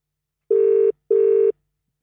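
Ringback tone on an outgoing phone call: two loud, steady electronic rings, each just under half a second, with a short gap between them and silence around them.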